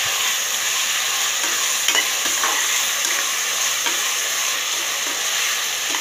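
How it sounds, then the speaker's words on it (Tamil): Chopped onions and three tomatoes sautéing in a pan for a vegetable biryani, a loud, steady sizzle with soft scraping as they are stirred. "நல்லா வதங்கட்டும், அப்போ தான் டேஸ்ட் வரும்."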